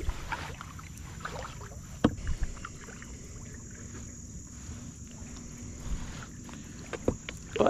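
Kayak paddles dipping into calm water on an early sunrise outing, soft irregular splashes and strokes close by over a steady faint hiss, with a few sharper knocks near the end.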